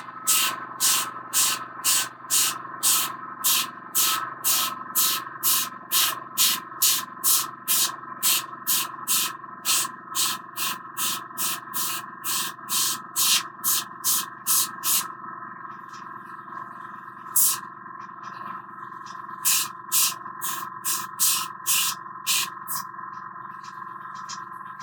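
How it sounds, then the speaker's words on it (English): Airbrush spraying ink for detailed shadow work, a rapid series of short, sharp hissing bursts in a steady rhythm, close and clear. They pause briefly near the middle before a few more scattered bursts, over a constant low compressor hum. "I never really used the airbrush for this kind of detail work before"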